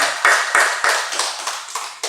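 A church congregation claps in a brisk, uneven burst of hand claps lasting about two seconds, loud and close with no voices over it.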